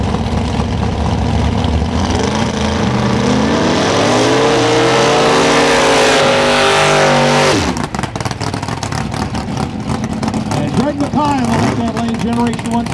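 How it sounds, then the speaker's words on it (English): A first-generation Camaro at a drag race, its engine roaring loudly and rising in pitch as it revs, then pulling away into a harsher, rattling rumble, with an announcer talking over it throughout. "Generation 1 Camaro."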